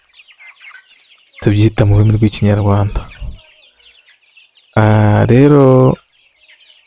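Sasso chickens on a poultry farm clucking and calling faintly in the background while a person talks loudly over them in two stretches.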